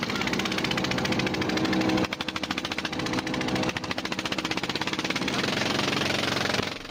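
A fishing boat's rattling outboard engine chugs steadily nearby, its rapid knocking pulse shifting in pitch partway through and staying loud throughout.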